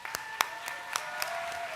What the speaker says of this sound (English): Please rise and give a round of applause to your Terrier Support Network.